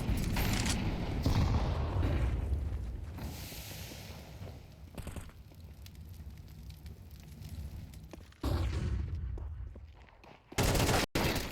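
Rapid gunfire from a Counter-Strike match on the Mirage map at an esports tournament, loud continuous bursts and crackling shots running throughout, with heavy blasts near the end.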